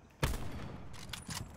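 Gunfire in Call of Duty Blackout aimed at a helicopter: a sharp loud shot followed by a few quicker reports over a continuous background hum, short and fairly close.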